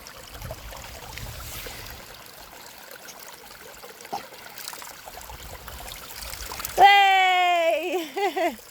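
Water trickles and sprays from a garden tap fed by a spring pond in a soft, continuous wash, and then a voice calls out loudly near the end.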